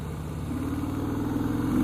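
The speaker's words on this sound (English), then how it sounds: "Now this bike actually has a decent pull to it. Usually the 103B engine kind of feels a little lazy." A Harley-Davidson Breakout motorcycle with the 103B engine, heard as a close, steady, low rumbling idle that builds slightly toward a rev on a city street.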